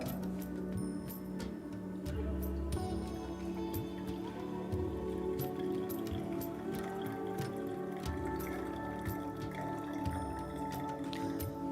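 Melted jaggery syrup poured from a pot into a serving jar, a steady close trickle with small drips, clinks and wet splashes running throughout.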